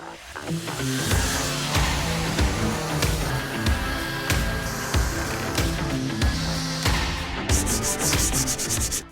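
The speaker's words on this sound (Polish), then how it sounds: "Czas najwyższy zabrać się za szlifowanie." Raw wooden bench parts are sanded with a loud, rhythmic power sander, each pass giving a rising and falling grinding rub, close up with no talk.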